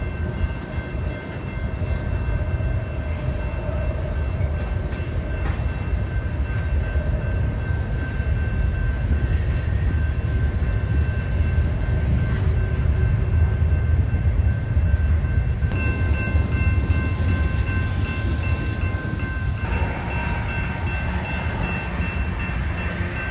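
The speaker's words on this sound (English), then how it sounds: "While that coal train was going by, I got jump scared by an eastbound intermodal on the flyover" A BNSF coal train and an eastbound intermodal train on a flyover rumble past together in a long, steady, loud roar of rolling cars and wheels, with a faint tone underneath and no voices.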